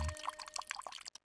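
A drink is poured into a glass, with trickling and dripping liquid sounds running through a short moment before a brief silence.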